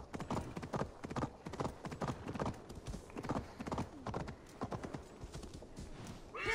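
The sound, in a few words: horse hooves clip-clop, from video game Assassin's Creed Valhalla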